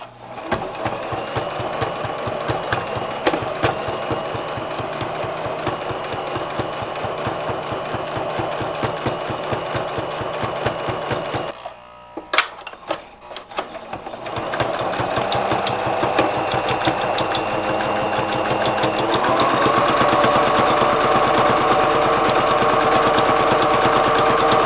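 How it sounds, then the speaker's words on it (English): Sewing machine stitching a pocket onto a fabric Bible cover, a steady rapid mechanical whir running loud and close, pausing briefly midway before resuming at a slightly higher, brighter pace. "Now when I sew the pocket on, I'm going to sew that as close to the edge of the pocket as I can get."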